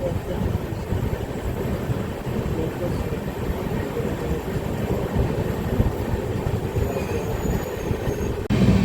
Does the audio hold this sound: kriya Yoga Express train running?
yes